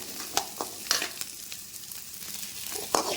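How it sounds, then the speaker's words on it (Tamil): Onions sautéing in a pan for a mushroom curry, a soft sizzle broken by several sharp scraping stirs of a spoon against the pan, fairly quiet with no talking. "அடுத்து வெங்காயம் போட்டு நல்லா வதக்கணும்."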